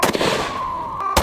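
A single loud, close blast of 10 gauge buckshot from a Super Shotgun, with a sharp report ringing out and decaying, then a second sharp impact just before the end.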